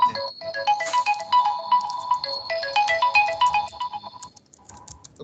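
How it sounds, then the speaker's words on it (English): A phone ringtone plays loudly and close, a bright looping electronic melody of quick repeating notes lasting several seconds before fading out. "The phone is ringing."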